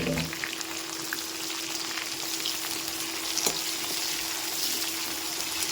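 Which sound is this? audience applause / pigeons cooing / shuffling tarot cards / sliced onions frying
sliced onions frying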